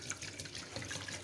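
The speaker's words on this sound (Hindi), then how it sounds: "2 लीटर मैं इसमें पानी डालूंगी" Water is poured steadily into a pan holding desi chicken for yakhni broth, a continuous splashing stream heard close up with no talking.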